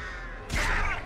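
Crows cawing in Dead by Daylight, placed by the Artist killer on a window frame, give a short harsh burst of caws and flapping that flares up mid-clip over low game ambience.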